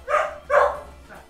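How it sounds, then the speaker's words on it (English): A dog barks twice in quick succession indoors, moderately loud and close, with a fainter third yip trailing off behind it and no talk over it. "Bad dog."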